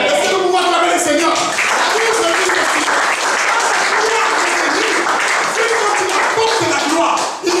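A church congregation applauds the Lord with loud, dense, sustained clapping that fills the room, mixed with cheering voices and shouts throughout.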